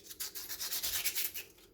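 Pounamu jade is sanded by hand to remove tool marks, giving a close, rhythmic series of soft, raspy rubbing strokes that repeat quickly and evenly.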